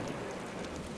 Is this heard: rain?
yes